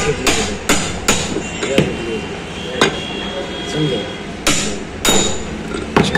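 A 2820 bearing is hammered into its seat in an auto rickshaw engine, producing loud, sharp metallic blows at irregular intervals, close by, with some background noise between strikes.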